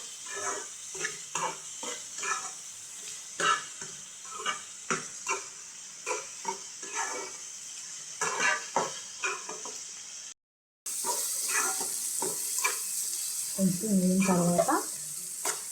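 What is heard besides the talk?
dried fish pieces frying and being stirred in a pan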